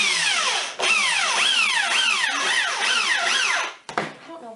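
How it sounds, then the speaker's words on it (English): A power drill with a Phillips bit drives screws into a wooden soap mold, the motor rising and falling in repeated whining pulses close by. It stops briefly, then gives a final short burst. "he's going to put the screws in"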